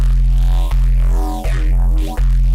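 Phase Plant synth sequencer playing one sequence, a loud sustained bass-heavy tone with sweeping filtered upper notes, retriggered about every 0.7 seconds, no talking.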